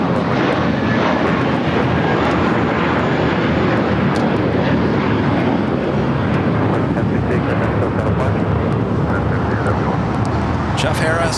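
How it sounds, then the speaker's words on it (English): A Turkish Airlines Airbus A350 is pushed back at LAX before its flight to Istanbul. A steady, loud aircraft engine drone runs the whole time with voices talking over it. "That is Turkish A350 now pushing it back, heading back to Istanbul"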